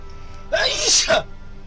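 A single sharp sneeze bursts out close to the microphone, a quick intake followed by a hissing, explosive release lasting under a second, against a quiet room.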